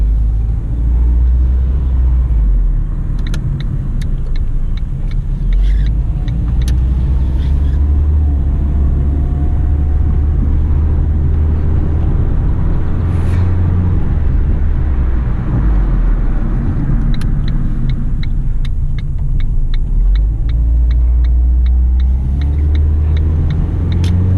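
A 2007 Ford Focus with 54,000 miles out on a test drive, its steady low engine and road rumble continuous and loud throughout, with occasional faint clicks and no talking.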